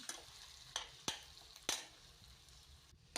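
Raw mango pieces frying in a pan for mango puliyogare, a soft sizzle beneath a few sharp scraping stirs of a spoon against the pan, quiet and close, with no voices.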